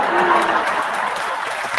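A crowd applause sound effect plays on a podcast, a steady wash of clapping and cheering held for a couple of seconds at fairly loud level, with a little talk mixed in.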